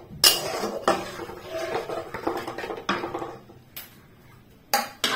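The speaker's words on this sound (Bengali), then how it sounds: "এটাকে সব মশলাগুলোকে ভালোভাবে একসাথে মিক্স করবো" A metal spoon stirs chana masala spices, made without onion or garlic, together in a pan, giving repeated clattering scrapes and clinks of utensil on metal at an uneven pace.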